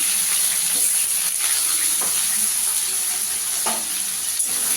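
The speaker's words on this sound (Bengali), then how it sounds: "আলুটাকে একটু ভেজে নেব লাল করে।" Potatoes fry with whole cumin seeds in a hot pan, giving a continuous close sizzle broken by occasional stirring scrapes, with no talking.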